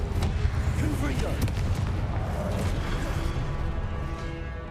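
Confringo fire spell blasts in Hogwarts Legacy on PS5, a dense rumbling barrage of booming impacts with sharp bursts early on, loud and continuous amid combat noise.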